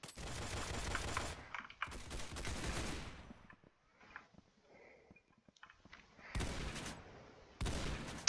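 Bursts of rapid gunfire: two long, dense rattling volleys near the start, a quieter gap with faint scattered pops, then two more loud bursts near the end.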